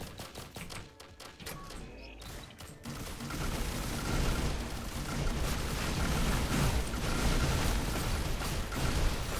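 Mortar tubes and gunfire in Risk of Rain Returns: after a few scattered clicks and thumps, a dense rumbling barrage of explosions and shots builds and holds at moderate loudness to the end.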